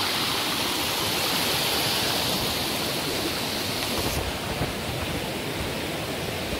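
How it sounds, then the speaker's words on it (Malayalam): A river stream flows near Didupe Falls in forested country, a steady broadband rushing of water, close and even, with no voices over it. "നല്ല രസമുള്ള പുഴ."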